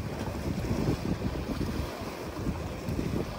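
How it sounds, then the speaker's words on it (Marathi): Sea waves crashing against the rocky shore at Sindhudurg fort in Malvan, a continuous rough wash of surf mixed with wind buffeting the microphone, close and fairly loud, with no voices. "इकडे आदलते पाणी पूर्ण. हे बघा पूर्ण कातळ तिकडे आदळते."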